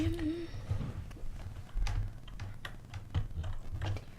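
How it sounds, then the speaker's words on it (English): Computer keyboard typing, quick uneven clicks of keys pressed close by at moderate volume, mixed with low background hum and a voice speaking intermittently. "Okay, type anim here."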